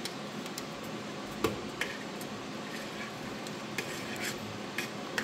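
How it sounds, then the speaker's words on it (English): A spoon scrapes and taps around a pot of homemade mac and cheese, with a few scattered clinks and light metallic knocks over a quiet kitchen background. "I gotta stir my dinner here. I'm making homemade mac and cheese."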